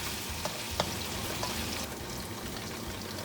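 Tofu fries in a pan with a dense, steady sizzle and a few sharper pops and stirring scrapes, close up and with no voices.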